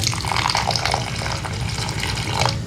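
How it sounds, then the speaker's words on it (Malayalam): Water is poured into jaggery syrup for Kerala unniyappam batter, making a brief, steady splashing gurgle that is fairly loud and close, with no talking. "കുറച്ച് വെള്ളം ഒഴിച്ചെടുക്കുന്നുണ്ട്."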